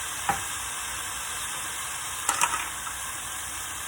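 Pre-chopped minced garlic sizzles in a pan as a steady, bright hiss, with a few soft scrapes of stirring breaking through midway.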